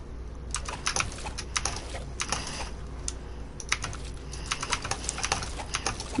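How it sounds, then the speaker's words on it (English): A computer mouse is left-clicked repeatedly, producing sharp, irregular clicks in quick clusters over a quiet background, with no talk. "That was just me left clicking."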